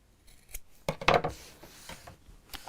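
Scissors snip close around the rounded corners of a sewn fabric book cover, a few crisp cuts in quick succession with quiet pauses, near and fairly soft, no talking.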